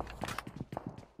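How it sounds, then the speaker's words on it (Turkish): Quick footsteps in PUBG Mobile, a close, rapid run of soft thuds with an uneven rhythm, clear and fairly loud for about a second. "Her yerde ayak sesi."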